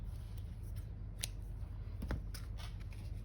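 A few quiet snips of scissors trimming thread during a journal unboxing, close by and spaced out, over soft background hiss.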